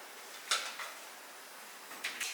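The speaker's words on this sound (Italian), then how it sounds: "Sistemo tutti i piatti tolti dalla lavastoviglie." Dishes being put away after coming out of a dishwasher in a home kitchen: a few separate, faint clinks and clatters of plates and cutlery with quiet pauses between them.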